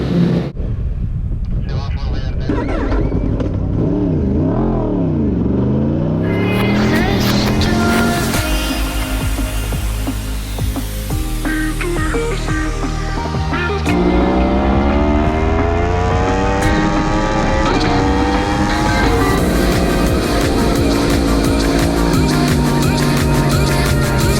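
A racing motorcycle lapping a track at full push, its engine loud and close throughout with rising and falling pitch through gear changes and corners, overlaid by heavy wind rush.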